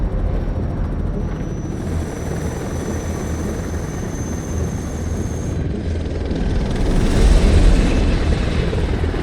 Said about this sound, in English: That's our helicopter